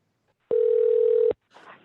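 A telephone handset gives a steady, loud dial tone lasting under a second, cutting off sharply, followed by a faint rustle.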